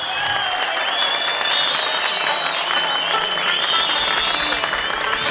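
Steady applause from a live audience at a concert just before a singer begins a song, dense and continuous clapping that stays loud and even for about five seconds with no voices.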